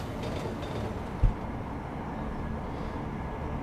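Train ride in the video game Deus Ex: Mankind Divided, a steady low rumble of a rail car in motion with one brief thump partway through and no talk.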